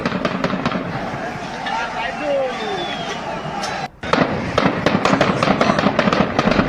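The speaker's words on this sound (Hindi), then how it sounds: "मगर यहां गोलियां क्यों चल रही हैं" Gunfire in Tehran, Iran: rapid sharp cracks and bangs fire in dense bursts, loud and close, with a brief silence midway before the volley resumes, over a noisy outdoor background.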